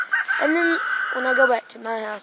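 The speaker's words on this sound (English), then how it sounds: "You can hear it in the background. His chickens." Chickens on a farm cluck and call in the background, partly masked by a person talking nearby.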